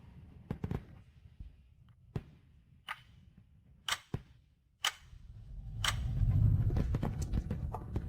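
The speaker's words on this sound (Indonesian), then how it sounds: "Pertunjukan kembang api seharga 5 juta dolar ini adalah kejutan ulang tahun" A lavish birthday fireworks show bursts with a series of sharp, separate cracks and pops at irregular intervals, then swells into a dense, rumbling roar of overlapping explosions toward the end.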